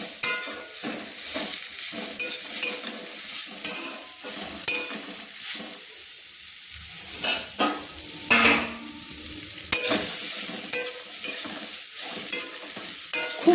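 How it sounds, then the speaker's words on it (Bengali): Grated coconut sizzles gently in a kadai while being lightly fried for suji dudh puli pitha, with a spatula stirring and scraping in irregular strokes under a steady hiss. "এবার নারকেলটাকে একটু ভেজে নেব, হালকা হালকা করে ভেজে নিচ্ছি"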